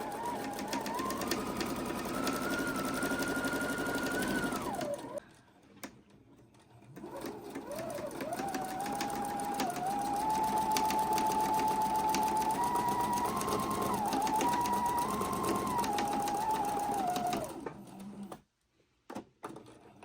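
A sewing machine stitches an apron in long, steady whirring runs, pausing briefly around five seconds and again near the end; a faint voice sounds in the background.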